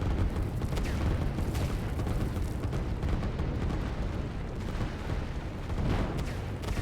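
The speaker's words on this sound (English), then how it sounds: "these artillery are tearing up a lot of this production right now" Artillery batteries in the strategy game Line War pound enemy structures, a dense, continuous barrage of booms and rumbling gunfire with sharper reports scattered through, loud and unbroken throughout.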